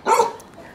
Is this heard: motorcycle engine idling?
no